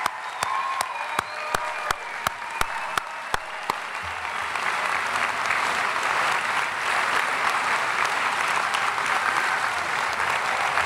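A commencement audience applauds honors scholars at a university education school ceremony. A few sharp, evenly spaced claps open, then a large crowd swells into loud, sustained applause that fills the hall and holds steady to the end.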